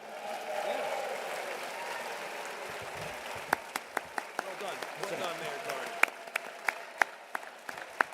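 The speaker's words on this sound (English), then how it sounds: "give them a big round of applause" A crowd at the opening ceremony of the 2024 Carter Work Project for Habitat for Humanity gives a round of applause. A soft wash of clapping is dotted with sharp, close individual claps, and voices speak over it.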